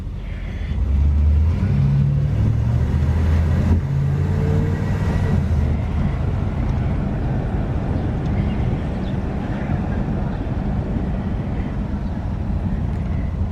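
A 1938 Oldsmobile with an eight-cylinder engine pulls away under acceleration, a deep, rising engine drone heard from inside the car that settles into a steady rumble of road and motor noise.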